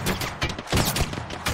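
Rapid, dense gunfire bursts from an Apex Legends match, loud and near, with overlapping shots and impacts filling most of the moment, set around a Kraber sniper rifle.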